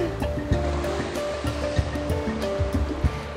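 Waves breaking on a rocky, pebbled beach in Sochi, a loud continuous surf roar with repeated knocking and rattling of stones as the water washes in and out, no speech.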